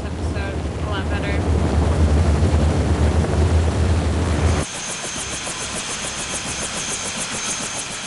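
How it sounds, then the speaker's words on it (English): A boat engine idles in the Jurassic Park Telltale video game, a loud low rumble with wind and water noise that drops to a quieter steady hum partway through. "keep the engine running."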